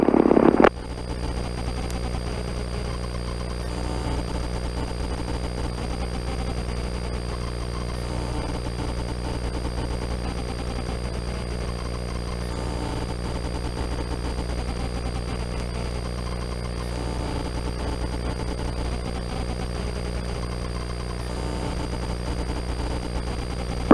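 A helicopter engine drones steadily in flight, turning onto final approach at Auburn, a constant low rumble with a whining tone that holds unchanged throughout, with no voices.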